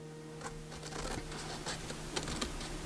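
Scissors or a blade snipping through folded book pages, soft papery scratches and quick crisp cuts repeating irregularly, faint and close, over a low steady background hum.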